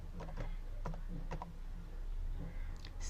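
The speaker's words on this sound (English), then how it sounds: "press shift key and then 8 star, then enter" Keys on a computer keyboard are pressed in a few quick, separate clicks with short pauses between them, quiet and close up, while someone enters a command.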